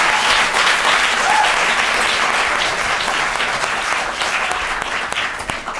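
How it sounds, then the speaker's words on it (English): An audience at a student union question-time event bursts into sustained, even applause, many hands clapping together in a loud wash that tapers slightly near the end. "Can we get a round of applause"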